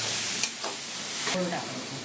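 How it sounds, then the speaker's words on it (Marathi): Grated coconut roasting in a pan for modak, a soft continuous sizzle with a couple of brief scraping stirs, close and moderately loud. "चांगलं खोबरं परतून घेऊया"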